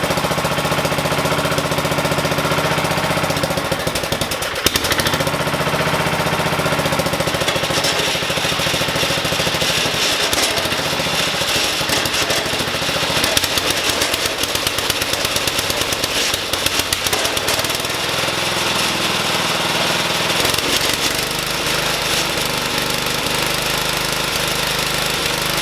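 A 1969 Sears SS12 garden tractor engine running after years of sitting, a loud, continuous rough chugging with a rapid knocking beat and shifting load throughout, close up with no voices.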